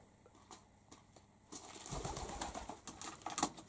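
Wild pigeons stirring near a nest, with soft wing flaps and faint coos building into a busier burst of fluttering and rustling midway through, fairly close and moderately loud.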